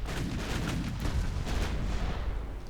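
Battle cruiser main guns firing in the naval warfare game Ultimate Admiral Dreadnoughts, set in 1934: a dense, continuous rumble of overlapping heavy cannon blasts with sharp reports layered over deep booming, loud and sustained throughout.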